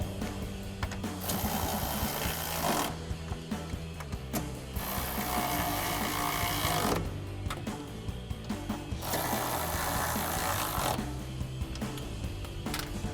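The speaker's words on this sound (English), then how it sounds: "we're gonna grab our ratchet with our 13mm socket and tighten them down" Ratchet with a 13mm socket tightening nuts on a RAM 1500 running-board bracket, rapid clicking pawl bursts in several runs separated by short pauses, close and moderately loud with no voices.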